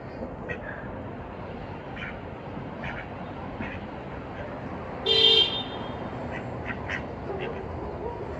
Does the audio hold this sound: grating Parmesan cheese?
no